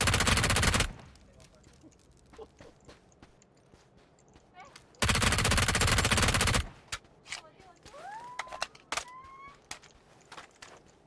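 Two loud bursts of rapid gunfire rip through a PUBG squad match, each lasting a second or more, separated by quieter stretches of scattered clicks and faint sounds.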